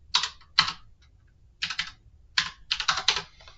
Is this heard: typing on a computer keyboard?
yes